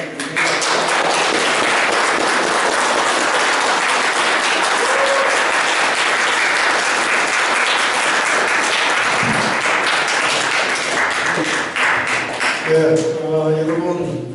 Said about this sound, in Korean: 자, 힘찬 박수로 노회찬 대표님.